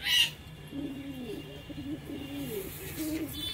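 A male Giribaz flying pigeon coos in a run of low, rolling throaty phrases that repeat steadily, starting just after a short sharp noise.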